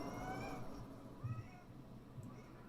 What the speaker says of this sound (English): Oh, it's a cat. It's a kitty cat.